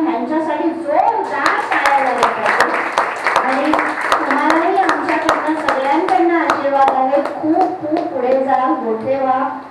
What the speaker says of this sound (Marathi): ह्यांच्यासाठी जोरदार टाळ्या झाल्या पाहिजे